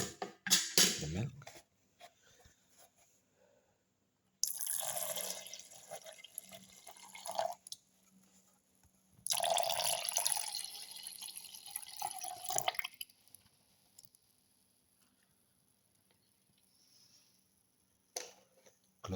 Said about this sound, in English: Pour in the milk.